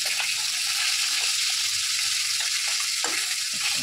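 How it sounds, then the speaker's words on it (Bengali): Fish, shing catfish, frying in a pan, a loud, steady sizzling crackle with occasional small pops throughout. "মাছ ভেজে দেখো"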